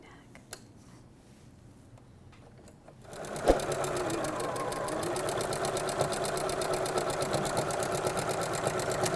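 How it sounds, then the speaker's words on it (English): A Janome sewing machine quilts stitch lines on a tote, starting after quiet rustling and then running in a fast, steady mechanical chatter up close. "Lining this quilt bar up with the previous stitch line as I sew the next one"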